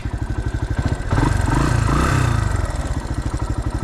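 A dirt motorcycle climbs slowly uphill through snow and mud, its single-cylinder engine thumping close and loud at a steady idle-like pace, then pulling harder with rising revs midway before easing back.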